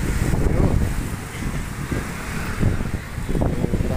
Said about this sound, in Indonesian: angin kenceng banget,